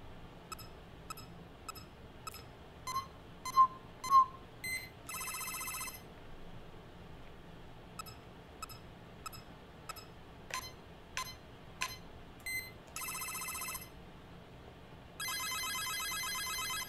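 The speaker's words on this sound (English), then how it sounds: "Oh, my phone's ringing." A phone chimes through a repeating pattern of short electronic tones and longer buzzy ring bursts, recurring several times over a quiet background during a game stream.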